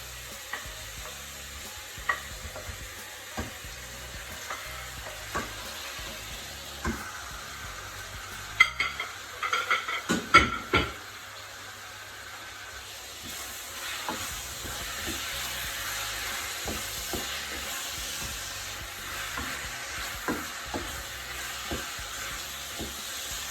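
Chicken and onions fry with a steady low sizzle as a utensil stirs them, clinking against the pan in scattered scrapes and knocks, with a busier stirring stretch partway through and no talking.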